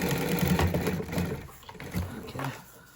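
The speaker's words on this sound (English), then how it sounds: "What I'm gonna do is sew this in." A sewing machine stitches an upholstery armrest in a repair job, a close mechanical whirring hum that slows and stops partway, with a person talking alongside.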